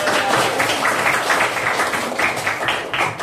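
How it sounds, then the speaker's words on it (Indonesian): A sixth-grade class claps during a maths lesson, loud, close, continuous hand-clapping from many pupils that stays steady throughout with a slight fade at the end. "tepuk tangan dulu untuk kelas 6A."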